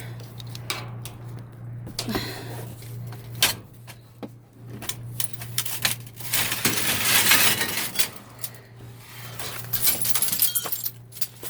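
Broken glass in a floating frame clinks and rattles as it is pulled from a dumpster, with scattered sharp chinks and a denser crunching jangle midway, close and irregular.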